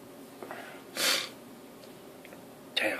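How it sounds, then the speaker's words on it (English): A short, close sniffle bursts out around the one-second mark, a breathy nasal rush followed by quieter breaths and a second sharp intake near the end, with no talking. "Damn sniffle."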